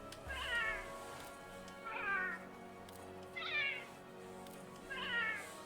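A real house cat meows four times at steady intervals, each call clear and moderately close in a quiet room, with no talking over it.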